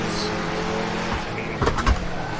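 A LEGO Hot Rod races against AI cars around a LEGO track in Assetto Corsa, its engine droning steadily before sharp tire and impact noises break through near the end.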